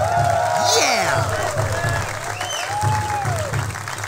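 A crowd claps and cheers in the Inuyasha: The Secret of the Cursed Mask video game, continuous applause with pitched sound effects and a voice laid over it.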